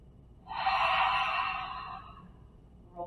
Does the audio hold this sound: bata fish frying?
no